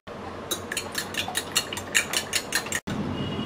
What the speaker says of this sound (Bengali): এবার ভালো করে ডিমটা ফেটিয়ে নেব।